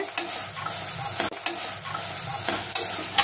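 Green peas chaat mixture with chopped tomato being stirred in a hot pan, a spoon scraping in repeated strokes over a constant sizzle with a few sharp clacks against the pan.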